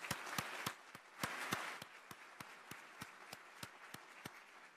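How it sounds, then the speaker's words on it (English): An audience applauds Holocaust survivor Irene Weiss at the Holocaust Museum, heard as faint, evenly spaced claps that briefly thicken, then thin back to a steady, sparse pattern. "Would you please stand so we can give you a round of applause?"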